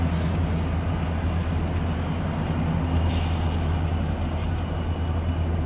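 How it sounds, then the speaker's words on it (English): A huge train rumbles past at a steady, loud level, a dense low-frequency roar of rolling cars that holds throughout without pause. "Huge train. Picking up a notch."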